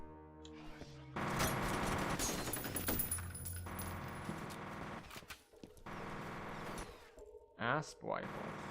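ASP rifle fire in the video game F.E.A.R., bursts of rapid sharp gunshots in several runs with brief pauses, ending in mechanical clicks and metallic handling sounds, with someone talking over part of it.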